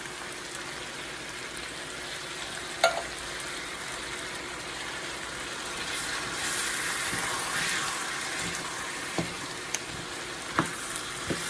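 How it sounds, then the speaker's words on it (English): Canned diced tomatoes with garlic and onion go into a hot pan of ground beef picadillo, giving a steady, moderate sizzle and hiss broken by a few sharp clicks and spoon taps, with no voices. "we're going to add 1 can of diced tomatoes, and these diced tomatoes have garlic and onion"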